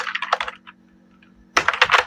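Rapid keystrokes on a computer keyboard while entering text into an Excel spreadsheet, a half-second burst of clicks, a pause with faint isolated taps, then another dense burst of close, crisp typing.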